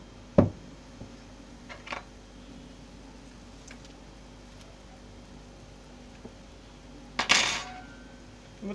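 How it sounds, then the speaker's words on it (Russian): Battered chicken fillet pieces are laid into a frying pan, giving a sharp metallic clink at the start, a few soft taps, then a louder clattering burst near the end over a quiet kitchen hush. "Выкладываем на сковородку."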